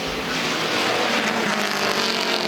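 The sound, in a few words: race cars lapping at Mid Ohio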